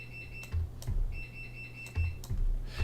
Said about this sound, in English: Let me go take care of this beeping.